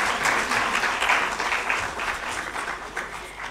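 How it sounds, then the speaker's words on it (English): A conference hall audience gives a speaker a round of applause, dense sustained clapping from many hands that fades slightly toward the end. "Let's give him a big round of applause."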